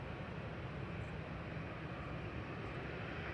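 A Boeing 777 jet bound for Abu Dhabi at Manchester Airport gives a steady, fairly faint broadband engine roar that holds evenly throughout with no talking.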